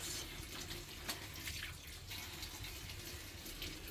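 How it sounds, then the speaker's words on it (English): Water runs steadily from a tap into a container to soak yarn being made by hand in Nepal, a faint continuous splash and rush with no talking. "you can only just put in the water"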